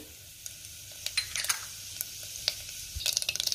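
Mustard seeds and cumin crackle and pop in hot oil in a kadhai, with faint sizzling and scattered sharp spits close by.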